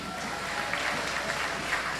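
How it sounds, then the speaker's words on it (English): Steady, dense clapping from an audience at an award ceremony, loud and continuous for the whole stretch, as a crowd gives a round of applause during a birthday tribute. "give a thunderous round of applause"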